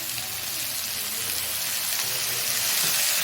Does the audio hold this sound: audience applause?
no